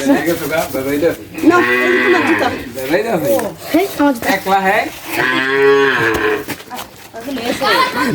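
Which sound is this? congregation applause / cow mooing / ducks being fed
cow mooing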